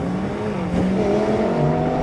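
A Mercedes-AMG A45 and a BMW M2 CS launching in a drag race, a loud sustained engine roar rising in pitch as they accelerate.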